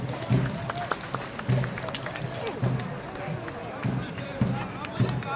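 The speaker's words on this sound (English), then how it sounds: "Give them a round of applause, ladies and gentlemen" Spectators at a Veterans Day parade in Fayetteville, North Carolina give a steady round of applause, a dense patter of many hands at middle distance that continues throughout.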